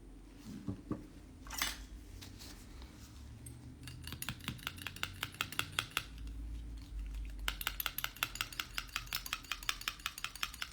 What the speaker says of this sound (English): I'm gonna give this one a really good stir.